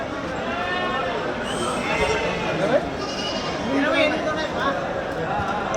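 Sheep bleat several times amid a busy flock at a livestock market, with voices and animal shuffling mixed in nearby.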